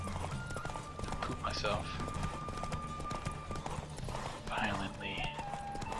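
Horse hooves clip-clop in a rapid galloping rhythm throughout a race in The Witcher 3, close and steady, with someone talking over them.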